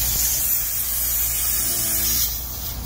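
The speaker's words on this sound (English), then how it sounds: "you push in until it starts, you know, you hear the air going in." Air hisses steadily from a nozzle pressed onto a car tire valve, a continuous close spray-like rush that holds for over two seconds before easing slightly.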